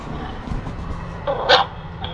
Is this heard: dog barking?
yes